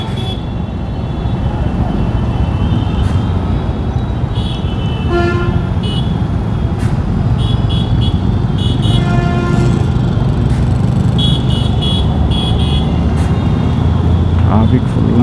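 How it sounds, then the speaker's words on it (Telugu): Dense, loud roadway traffic on the route from Agra into Delhi, with car and motorcycle engines and repeated horn toots and honks, some near and some farther off, while someone speaks over the din. "ట్రాఫిక్ ఫుల్ అంటే ఫుల్ ఉంది"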